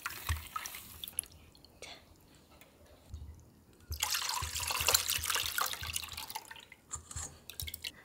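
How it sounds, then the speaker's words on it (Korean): Oysters being rinsed by hand in water, gently swirled, giving soft drips, trickles and sloshing that swell into a busier splashing stretch midway, with a brief word spoken. "살살 돌리면서 헹궈주셔요"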